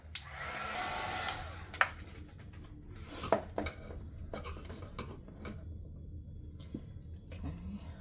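A hair dryer blows steadily for about a second and a half at the start, then gives way to clinks of dishes and light handling noises at close range.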